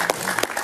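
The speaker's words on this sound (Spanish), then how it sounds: "Un aplauso para él, por favor." A studio audience on a talk show applauds a newly arrived writer guest, a brief, dense burst of clapping that fills the room.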